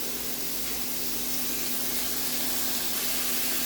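Ground beef sizzles with garlic in a hot pan, a steady, loud, broad hiss that holds evenly the whole time with no talking.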